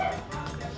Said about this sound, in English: And there's dogs. I have dogs.